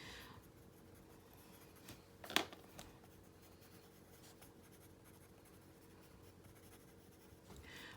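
A 3B graphite pencil scratches lightly across paper during a flower drawing, faint soft strokes close by with one sharper tap-like mark partway through, otherwise quiet.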